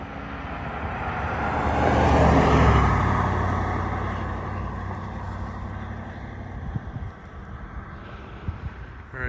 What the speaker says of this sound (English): here's going to be a normal drive-by.